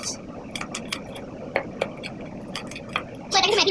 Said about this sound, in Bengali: দেখো আমরা পেঁয়াজটাকে ভালো করে কুচিয়ে নেবো।